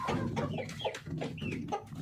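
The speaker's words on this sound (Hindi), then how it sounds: "ये देखिए जी, मुर्गियाँ खा रही हैं ना।" Several desi (village) chickens cluck in short bursts close by while feeding, with busy overlapping bird calls throughout, at a small village farm.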